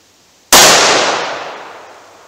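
A single loud .357 Magnum revolver shot fired double action, a sharp close blast followed by a long fading ring-out.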